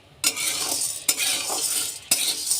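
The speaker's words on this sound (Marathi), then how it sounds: "आता हरभऱ्याची डाळ भाजून घ्यायची आहे गॅस अगदी वर ठेवायचं आहे" Split chickpeas dry-roasting in a pan over high flame, a continuous dry rattling hiss broken by three sharp scraping stirs of a spoon against the metal, close and fairly loud with no talk.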